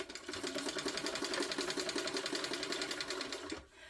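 Sewing machine quilting through a foam-padded fabric tote bag, a continuous close rapid needle chatter running steadily for several seconds before stopping abruptly.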